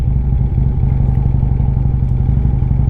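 A motorcycle engine held on the throttle runs steadily and close, a loud, even low-pitched drone with a rattling clatter and no letup across the stretch, without any talk.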